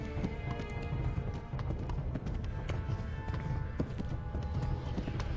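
A horse gallops in a video game: quick, rhythmic clip-clop hoofbeats run steadily throughout at close range, with no voices.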